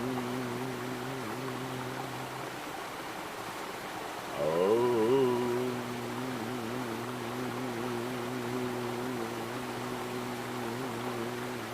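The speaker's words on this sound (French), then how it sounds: "tu vois la cascade derrière moi" Steady broadband rush of a waterfall cascading behind the camera, continuous and moderately loud for the whole span, with a low steady hum and a brief louder swell midway.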